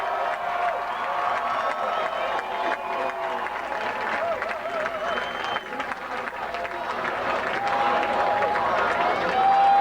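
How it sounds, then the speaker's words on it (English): A large crowd at a 2003 California governor campaign event for Arnold Schwarzenegger applauds and cheers steadily, a dense wash of clapping with shouts and whoops mixed in, sustained throughout. "Let's give a loud round of applause."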